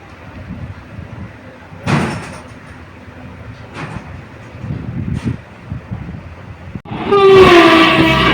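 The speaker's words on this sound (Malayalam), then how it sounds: "നമ്മുടെ ട്രെയിൻ ഇപ്പോൾ ഇതാ കൊരട്ടി അങ്ങാടി സ്റ്റേഷനിൽ നിന്ന് ഡിപ്പാർട്ട് ചെയ്ത് പോവുകയാണ്" Rumble and rattle of a passenger train departing Koratty Angadi station, with door or coupling clanks, then a sudden louder roar with a bright tonal whine near the end.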